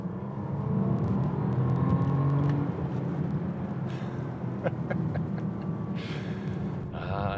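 Bentley Continental GT Speed 2022 with a W12 engine pulls hard, a steady loud low engine roar with rising harmonic tones, while faint breathy vocal sounds and a few clicks come in near the end.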